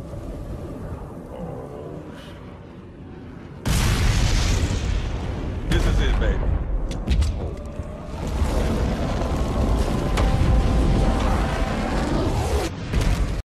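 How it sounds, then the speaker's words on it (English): Booming explosions erupt from the Halo video game during a space flight sequence, a quieter rumble giving way to sustained loud, chaotic blasts and crackling bursts. "while he's flying in space, you see a bunch of explosions, just chaotic everywhere"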